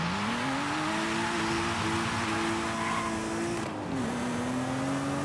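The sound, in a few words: distinctive mechanical car engine from video game Forza Horizon 5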